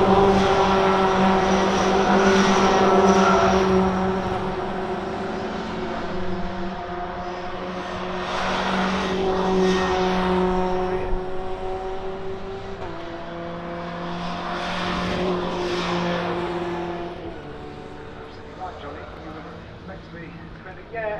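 A BTCC support-race car's engine at Oulton Park rumbles and revs in slow swelling waves, a loud droning tone rising and fading several times beneath continuous commentary.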